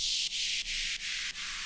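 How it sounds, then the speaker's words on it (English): Synthesized white-noise sweep from a dance track, five hissy bursts pulsing rhythmically with sidechain ducking dips between them, bright and airy with no low end. "We've got this little noise sweep at the beginning"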